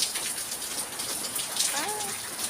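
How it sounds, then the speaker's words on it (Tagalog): Heavy storm rain pours steadily onto a surface beside broken roof gutters at a house, a dense continuous hiss with splashing drops, with a brief voice-like tone near the end. "Palagi na lang umuulan."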